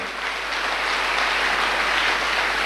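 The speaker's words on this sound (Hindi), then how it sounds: "कुछ दिनों का, बजा लीजिए ताली" Sustained audience applause at a motivational talk, a dense even wash of clapping that swells slightly and holds steady, loud and uninterrupted.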